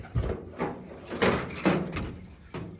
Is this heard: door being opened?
yes